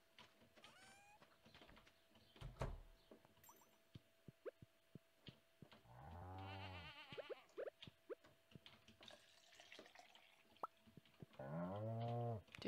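Goat bleating in the farming video game Stardew Valley, a few close, loud wavering bleats standing out from sparse clicks and faint game sounds.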